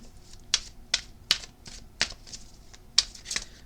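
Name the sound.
shuffling a deck of tarot cards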